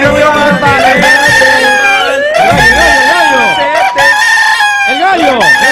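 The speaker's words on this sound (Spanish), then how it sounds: "El gallo, eso es." A rooster crows loudly and close by, several long, rising-and-falling calls in a row, with brief pauses and some clucking between them.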